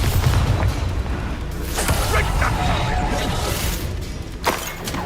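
Fiery blasting-spell explosions crash and boom in a Hogwarts Legacy duel, a dense, loud wash of shattering bursts with a sharp hit near the end, sustained over a rumbling background.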